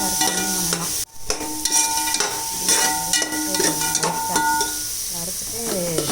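Black pepper and cumin lightly dry-roasting in a pan for a village-style karamani rice dish, a steady close sizzle with stirring scrapes running throughout.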